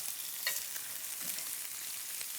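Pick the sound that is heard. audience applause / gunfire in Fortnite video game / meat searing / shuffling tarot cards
meat searing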